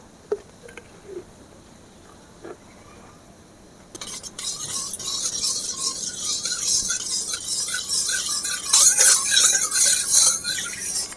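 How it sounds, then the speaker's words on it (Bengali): Gobindobhog rice is stirred in a pan with a spoonful of ghee. After a quiet stretch with a few faint clinks, a steady sizzling frying hiss starts, with soft scraping stirs running through it. "এবারে এই চালটা আমি ঘি দিয়ে ভেজে নেব এক চামচ ঘি দিয়ে দেব"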